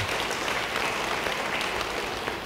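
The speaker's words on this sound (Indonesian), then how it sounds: "Beri tepuk tangan bagi dia" Steady applause from a church congregation fills the space, an even wash of clapping at moderate volume.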